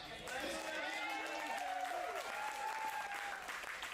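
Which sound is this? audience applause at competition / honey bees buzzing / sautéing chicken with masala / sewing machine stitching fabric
audience applause at competition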